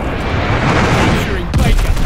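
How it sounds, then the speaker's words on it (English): An incoming enemy glide bomb in Call of Duty Vanguard rushes in with a rising whoosh over battle noise, then ends in a sudden loud, deep blast. "enemy glide bomb on the way"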